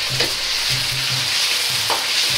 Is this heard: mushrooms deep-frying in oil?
yes